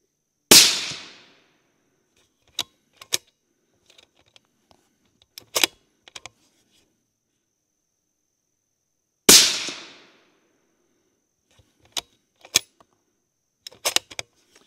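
Two sharp, loud rifle shots from a Proof Research Conviction rifle firing a group at a range, each a sudden crack with a short decaying tail, spaced about nine seconds apart, with small clicks and handling noises between them.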